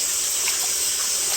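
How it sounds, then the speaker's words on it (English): Soaking brine water is drained off curing homemade bacon, producing a steady, continuous pouring gush with no voices. "Drain the water off every once in a while."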